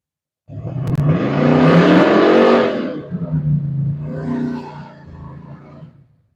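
A 632 V8 engine in a Nova race car revs up hard into a loud roar at a motorsports park, drops off, then rises again more briefly before fading out.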